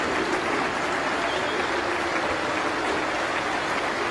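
A cricket crowd at Lord's applauds Joe Root's half century, steady broad clapping from the stands sustained throughout at moderate distance.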